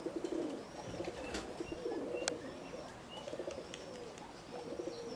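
Roller pigeons coo softly in low, repeated calls, with a few sharper chirps and sporadic tweets over a steady outdoor background.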